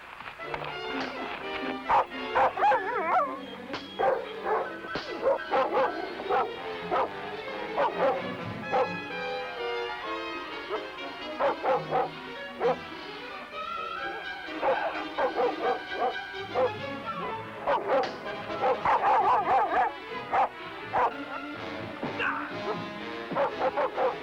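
A dog barks and yips repeatedly in a busy scene from a 1958 film, steady yaps layered over a background of other sound and some voices.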